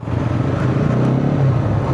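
Nine motorcycle engines idle together in a steady, low rumble, a continuous mechanical drone with no pauses or changes in pace.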